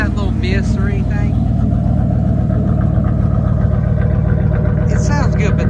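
A cheap engine idles and runs loudly in a Jeep truck with a hacked, poor exhaust, giving a close, continuous rough drone throughout, with someone talking over it.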